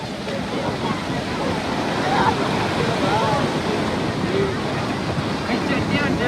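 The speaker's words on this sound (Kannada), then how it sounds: "ಸಂಜೆ ಆದ್ಮೇಲೆ ಈವ್ನಿಂಗು ದೊಡ್ಡ ಅಲೆಗಳು ಬರುತ್ತೆ, ದೊಡ್ಡದಾಗಿ ಬರುತ್ತೆ" Evening surf rolls in on Mahabalipuram beach with a continuous loud roar of breaking waves and heavy wind buffeting the microphone. Any voices are buried in the noise.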